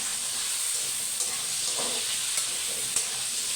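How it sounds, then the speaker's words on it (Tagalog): Sweet potato fries in Star margarine instead of cooking oil, a steady crackling sizzle with a few faint stirring clicks and no talk. "Prito muna natin ng konti yung ating sweet potato."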